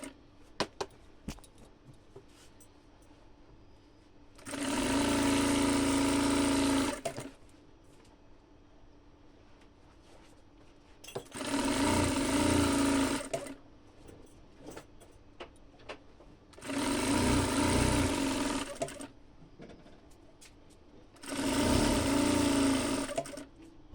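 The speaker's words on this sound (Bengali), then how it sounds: "একটা সোজা সেলাই এভাবে কি একটা অংশ সম্পূর্ণ সেলাই দিয়ে নেব" A sewing machine runs a straight seam on a maxi dress in four loud bursts of fast, even whirring, each a few seconds long and separated by quiet pauses.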